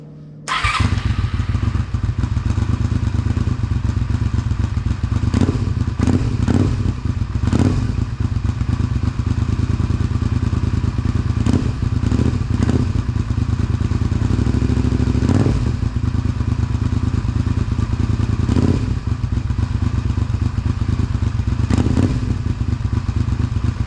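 A 1999 Honda VTR 250 cafe racer engine with a silencer fitted starts and runs steadily near the microphone on a cool, damp day, a loud continuous throb broken by several sharp revs and occasional thumps.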